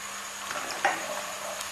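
Onions frying until light brown for chicken jalfrezi, a soft, steady sizzle with a brief scraping stir near the middle, fairly quiet and close.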